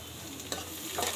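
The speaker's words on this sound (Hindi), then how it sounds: "इस पोजीशन पे मैं इसमें शिमला मिर्च डाल दूँगी" Chopped capsicum sizzles softly in a pan with sautéing vegetables for pav bhaji, a low steady frying hiss broken by a couple of stirring scrapes, heard alone without talk.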